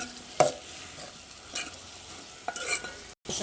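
A spoon stirs brinjal curry in a pan during tempering, with soft scraping strokes at irregular intervals over a faint, steady sizzle, close and fairly quiet.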